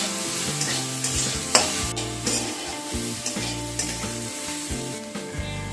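Squeezed soybean chunks frying lightly in a hot wok, a steady loud sizzle with scraping stirs and occasional clinks from the spatula, close up and without talk.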